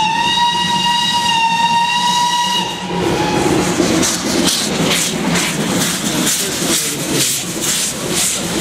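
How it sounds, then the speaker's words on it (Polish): Small steam locomotive 475-101 at a steam locomotive parade in Wolsztyn, Poland: a loud, steady steam whistle for about three seconds, then a continuous rushing hiss of steam with rhythmic chuffing pulses, close and with no talk. "The smallest locomotive today."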